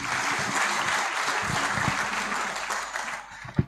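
Sustained audience applause at a 2024 fashion event, a dense, steady wash of many hands clapping that tapers slightly near the end, with a few sharper claps standing out.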